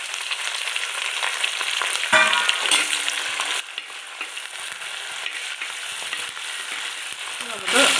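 Curry leaves fry in oil for a gooseberry pickle, a bright, continuous crackling sizzle with occasional stirring clatters, loud and close throughout.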